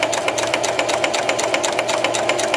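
A sewing machine stitches a buttonhole in reverse, running fast and steady with a close, even mechanical whir and rapid ticking, heard alone.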